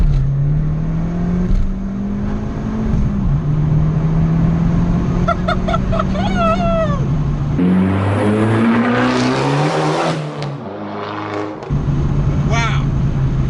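A tuned 250 bhp Fiat Abarth 595 accelerating hard from inside the cabin, a loud rising engine drone climbing through gears with a shift break and turbo flutter, while occupants talk over it.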